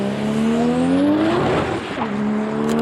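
A BMW drag car launches down the strip at a 2017 private event, its engine loud and close with a rising, strained roar that dips briefly as it shifts, then climbs again.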